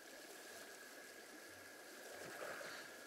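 Flowing river water in the dinosaur survival game Saurian, a steady close rushing and trickling wash that carries on unbroken, with faint low tones underneath and no voices.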